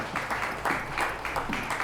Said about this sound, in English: a brilliant round of applause to you for a fantastic evening